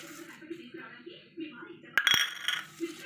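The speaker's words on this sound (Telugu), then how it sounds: "ఇవి వేసుకుని బాగా కలుపుకోవాలి" Chopped chili and lemon being stirred into a spicy homemade snack in a bowl, with a couple of sharp clinks of a spoon against the bowl and soft scraping, while someone talks throughout.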